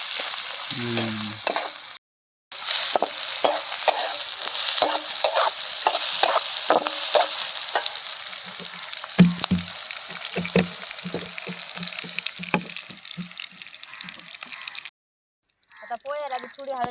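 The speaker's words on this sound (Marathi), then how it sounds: "असं चांगलं तळून घ्यायचं एका जागेवर राहून दिल्यावर खराब तर नाही" Frying and stirring in a pan while making spicy poha, a continuous sizzle broken by regular scraping strokes, with someone talking over it and brief gaps of near silence.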